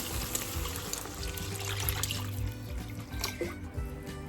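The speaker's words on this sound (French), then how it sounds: "Maintenant, je viens rajouter mon bouillon." Homemade broth pours in a steady, continuous stream into a pot of onions that have caramelized for half an hour, a close splashing trickle for about four seconds with a faint hum underneath.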